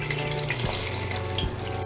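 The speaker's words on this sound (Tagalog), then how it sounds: "Ngayon po ay lalagyan na po natin siya ng tubig para sa sabaw ng" Water pours steadily into a cooking pot for Filipino bulalo beef-shank and malunggay broth, a continuous splashing rush with a low hum beneath, close and fairly loud throughout.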